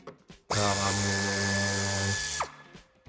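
A power drill whirs steadily for about two seconds as it backs a screw out of the lower bumper of a 2018 Renault Kadjar, starting and stopping abruptly, loud and close.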